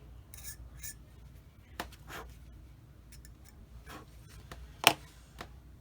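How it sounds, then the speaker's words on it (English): A hobby blade scrapes the mold seam off a plastic part from a Tamiya 1/35 M3A1 Scout Car kit, making faint, close, intermittent rasping strokes with one sharper click near the end. "Scrape the mold seam line a little bit."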